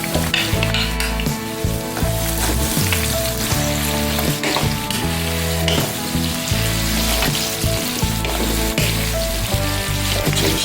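Carrots hit a hot pan of curry shrimp stir fry with bean sprouts, giving a loud, steady sizzle and crackle of frying that runs continuously throughout, with no talking.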